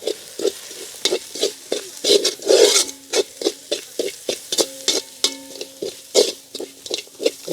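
Mashed potato mixed with salt for egg cutlets, a rhythmic series of close scraping and rubbing strokes, roughly two per second, steady and fairly loud with no talk.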